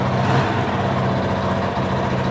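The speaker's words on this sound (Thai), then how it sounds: "เครื่องยนต์ติดนะครับ สามารถจะขับขี่ได้เลยนะครับ" A car's engine idles steadily just after starting, fitted with an AutoRoute CR5 injector immobilizer, a close, even, moderately loud hum with no break or stall and no talk.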